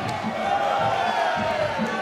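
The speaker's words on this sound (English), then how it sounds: "Crowd appreciating it" Crowd noise at a Muay Thai fight night, a steady broad roar of spectators cheering, fairly loud and continuous, with indistinct voices mixed into the wash.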